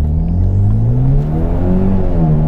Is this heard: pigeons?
no